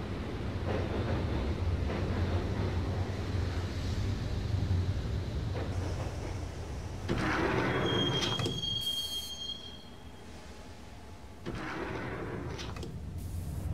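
A subway train in Max Payne rumbles steadily toward Roscoe Street Station, with wheels screeching, doors sliding and a high metallic squeal before the clatter quiets and then briefly surges again.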